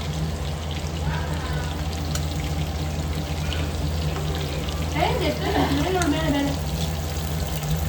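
Cooking oil pours into a pan in a home kitchen, with a soft continuous trickle and sizzle against steady background hiss. A voice can be heard faintly partway through.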